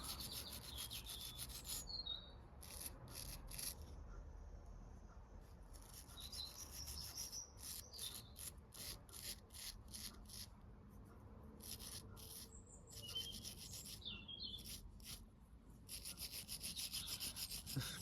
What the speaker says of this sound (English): give it a good scrub, and all the white will go away and it will turn silver